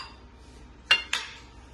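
A spoon clinks twice against a bowl while tikki stuffing is being mixed. The two light, close strikes come a fraction of a second apart in an otherwise quiet moment.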